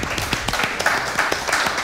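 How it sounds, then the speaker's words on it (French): Studio audience at a Red Bull Rap Jeu battle applauding as a rapper is introduced, a steady patter of many hands clapping close by for a couple of seconds. "Un tonnerre d'applaudissements, s'il vous plaît"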